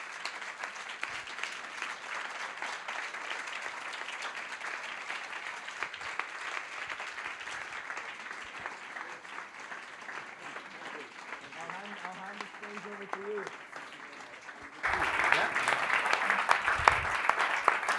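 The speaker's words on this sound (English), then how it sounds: "Big round of applause, please." Steady applause from an audience at a talk in Hanover rolls on continuously, fairly distant and soft, then swells louder toward the end.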